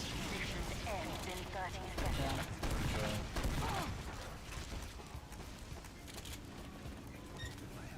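Heavy's gun in Team Fortress 2 firing over and over in a dense, clattering burst of rapid shots amid chaotic battle noise, with a voice talking over much of it.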